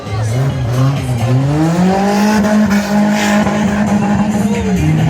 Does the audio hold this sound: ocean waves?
no